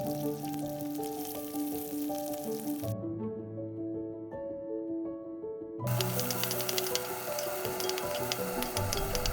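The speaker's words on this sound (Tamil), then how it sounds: "கருவேப்பிலை, காஞ்ச மிளகா, இது எல்லாமே ஸ்டவ் சிம்மில் இருக்கும்போது ஆட் பண்ணுங்கள்" Curry leaves and dried red chillies crackle and sizzle in hot oil on a stove, a steady frying hiss that drops away briefly midway and then returns, with no talking.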